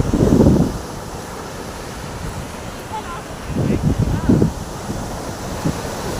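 Ocean waves surge and wash up on a beach in a few broad swells, mixed with steady wind buffeting the microphone, while children and adults talk and call out nearby.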